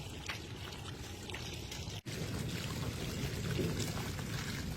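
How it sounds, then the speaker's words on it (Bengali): Water let out into a village fishing field pours steadily and continuously at close range, a broad rushing trickle with no talk, briefly dropping out for an instant midway. "আর একটু পানি ছেড়ে দাও, পানি উঠছে খেতে গেলে ভাই।"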